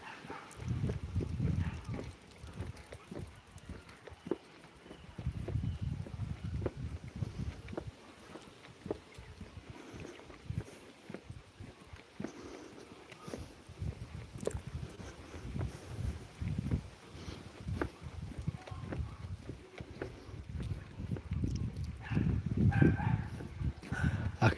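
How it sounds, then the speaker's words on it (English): A dog barking somewhere off in the distance along a seaside promenade, faint and intermittent under steady outdoor background noise. "I can hear somebody's dog playing hell."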